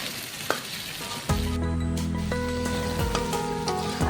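Turmeric, red chili, coriander and cumin powder and garam masala being stirred in a pan for a guava bhaji, a soft sizzle that swells into a steadier fry with a few sharp spoon clicks, no voices.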